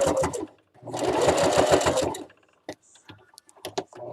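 A sewing machine stitches a fabric Easter basket in a quick, close, buzzing run of about a second and a half, followed by scattered clicks and fabric handling.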